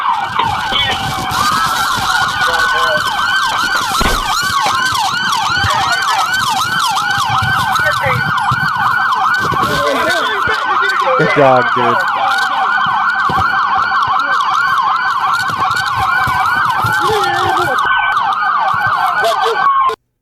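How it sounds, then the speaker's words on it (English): Several police car sirens blare loudly and continuously during a chase, overlapping yelps and wails close by, with a brief voice heard under them. "Please turn your sirens off."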